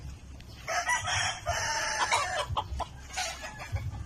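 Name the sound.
Sweater Boston gamefowl rooster crowing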